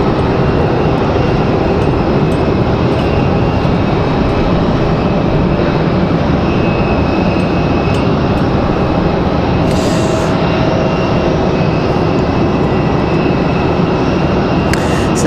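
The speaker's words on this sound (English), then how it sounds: "Delta 1033 headed to Boston." A Delta Airbus A220-300 jet airliner bound for Boston roars steadily at close range, a loud continuous engine rumble filling the whole stretch without a break.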